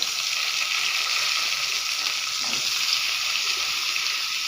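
Pieces of ash gourd fry in a pan with lentils, giving a loud, steady sizzle that holds evenly and close up throughout, with no talking over it.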